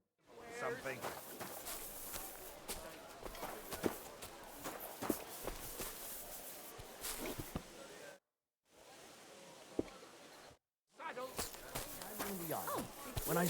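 Horse hooves clip-clop at a walking pace in Kingdom Come Deliverance 2, close and fairly quiet, a steady uneven rhythm broken by two brief silent gaps, with people talking over part of it.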